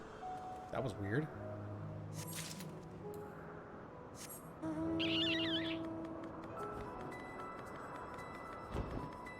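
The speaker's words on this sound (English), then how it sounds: "Game has lots of birds." Bird calls ring out in Final Fantasy XIV, several short whistled and warbling calls scattered across a quiet game soundscape, with a voice talking in the mix.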